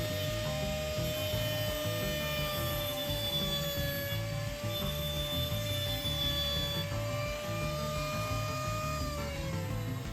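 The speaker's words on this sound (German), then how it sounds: "ich schaue immer wieder nach, wie tief der Schnitt ist, bis ich schließlich das Blech durchtrennt habe, um ja nicht zu tief zu sägen" A hand saw cuts through the thin sheet metal of a Märklin K-track model railway switch in a steady, even rasp, with a sustained metallic ring running close and continuous for the whole stretch.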